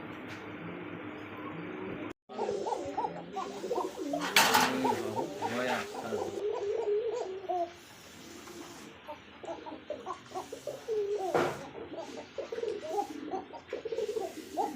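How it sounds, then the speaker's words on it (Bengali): Several Kokka pigeons coo continuously in deep, throaty rolling calls, overlapping one another with occasional clucks, in a busy, enclosed setting. "ককা কবুতর কাকে বলে দেখেন"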